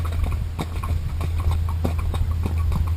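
Mule hooves clip-clopping along a lane on an off-road ride, a steady close rhythm of hoof strikes over a low rumble, with no speech.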